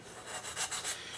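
A reamer gently cleans out a tapered bass peg hole on a Martin bass, giving a brief, faint scraping rasp in a few soft strokes.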